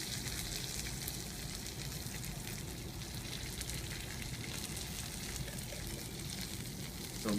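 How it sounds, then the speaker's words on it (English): Rice and mung dal hitting a hot pot for vegan khichdi, producing a steady, fairly quiet sizzle and frying hiss that continues evenly, with a small bump at the very end. "So I'll go ahead and throw in the rice and dal."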